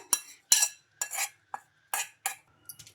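Roasted peanuts are tipped into a mixer jar in several quick bursts, giving rattling, clattering pours against the container, close and crisp with short silences between, no talk.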